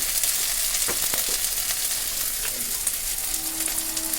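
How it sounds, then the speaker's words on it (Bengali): Spices with salt and turmeric sizzle and fry in a pan, with steady loud crackling and a few scraping stirs, no talk. "হলুদ দিয়ে আমি ভালো করে নাড়াচাড়া করে নিচ্ছি"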